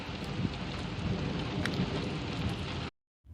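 A sudden afternoon thunderstorm pours heavy rain in a steady broadband roar, with rumbling thunder overhead, holding loud and continuous before cutting to near silence at the end.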